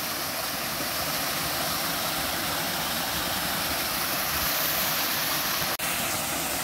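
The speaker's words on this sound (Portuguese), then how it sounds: "Essa cachoeirinha bem no meio do mato." A steady, broadband rush of a small woodland waterfall fills the scene continuously, loud and close, with no other sounds standing out.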